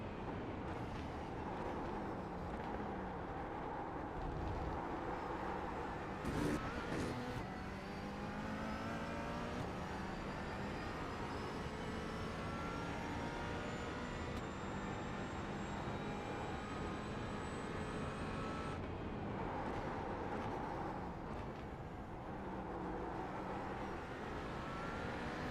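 BMW GT4 race car engines roar in a sim racing game at Sebring, rising and shifting through gears, with other cars passing nearby in a long, continuous run of revving and engine whine.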